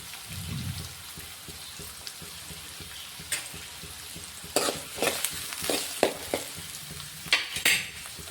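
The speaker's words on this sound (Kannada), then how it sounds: "ಎಣ್ಣೆ ಕಾಯ್ದೈತ್ರಿ. ಇವಾಗ ಈರುಳ್ಳಿ ಹಾಕಂಬ್ರಿ." Onion and green chillies sizzle in hot oil in a pan, a constant low fry broken by sharp bursts of spatula stirring and scraping, close and clear.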